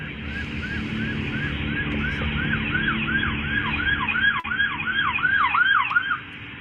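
Several police emergency vehicle sirens in a video game wail in rapid, overlapping rising-and-falling sweeps, growing louder and denser before cutting off near the end, over a low road rumble.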